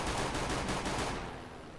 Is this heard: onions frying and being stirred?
no